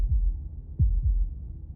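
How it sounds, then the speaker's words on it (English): Deep, muffled heartbeat thuds in the Slay the Princess video game, sounding as a few low pulses about half a second apart, close and loud with a faint hum between beats. "That was the sound of a heartbeat"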